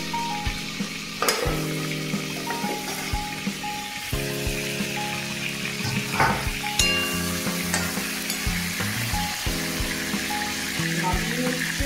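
A boal fish head fries in hot mustard oil with a dense, steady sizzle. A few sharp utensil clinks cut through it, and soft tonal background music runs underneath throughout.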